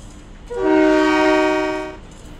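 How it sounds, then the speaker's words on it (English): A train horn in the Trainz railway simulation game sounds one loud, steady blast of about a second and a half over a constant background hum. "Man, I hate that horn."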